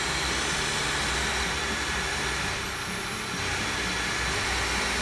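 Hair dryer switched on and running at steady intensity, a loud continuous broadband whoosh of blowing air with a brief dip partway through, no talking.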